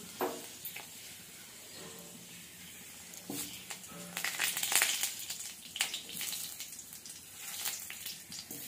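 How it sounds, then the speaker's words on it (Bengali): Fenugreek seeds and a dried red chili tempering in hot oil, with soft sizzling and crackling pops that grow busier and louder midway, close by and without talk. "এখন আমি ফোড়ন দিব মেথি আর শুকনো লঙ্কা।"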